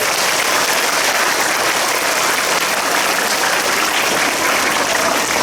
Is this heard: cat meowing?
no